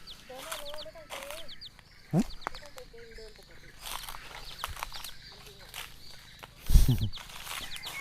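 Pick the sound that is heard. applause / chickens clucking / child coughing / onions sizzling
chickens clucking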